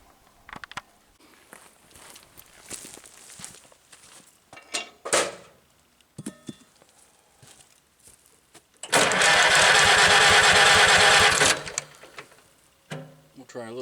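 A Farmall B tractor engine with magneto trouble cranks over for a few seconds, a loud, dense churning burst that fails to catch, framed by clanks of tools and parts being handled close by.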